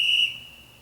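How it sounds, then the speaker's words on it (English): A sharp, loud whistle blast signals the start of a home workout round, holding a steady tone for about a quarter second before fading out, with no voices. "So as the whistle starts"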